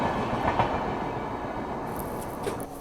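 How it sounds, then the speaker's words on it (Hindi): The Shatabdi Express, running between New Delhi and Lucknow, rushes past close by in a loud, continuous roar of rolling wheels and wagons, with faint squeals near the end. "ये गई शताब्दी, नई दिल्ली से लखनऊ के बीच चलने वाली ट्रेन।"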